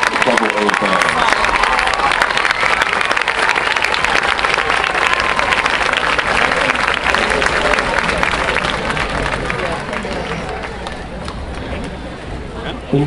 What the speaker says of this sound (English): Let's give another round of applause to all our past A and AA fans.